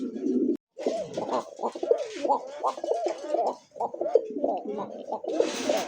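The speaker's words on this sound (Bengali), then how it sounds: "এটার যে ডাক নর মাদি সেম টু সেম দুইটা ডাক দিছে" A pair of koka pigeons cooing, a male and a female, with close, repeated rolling coos in quick succession and brief pauses between phrases.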